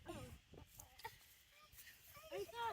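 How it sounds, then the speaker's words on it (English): Soft clucking from a few chickens under quiet background voices, with intermittent short calls, fairly faint. "Why are there chickens in here?"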